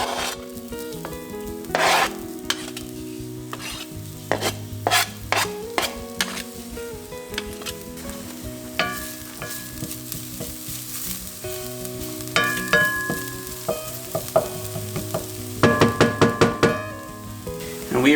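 Food browns in a pan over medium heat, with a continuous sizzle broken by repeated scraping and stirring strokes of a utensil against the pan. Minced garlic has gone in for a sloppy joe tater tot casserole.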